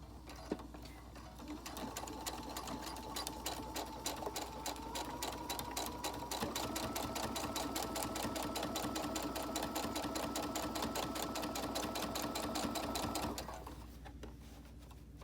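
A sewing machine runs steadily through a thick seam on a fabric mask band, a rapid rhythmic clatter that holds for about twelve seconds before stopping abruptly near the end.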